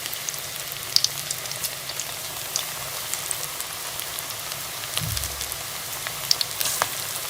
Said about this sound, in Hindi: मीडियम आंच पे जो है वो हम पकौड़ों को फ्राई करेंगे।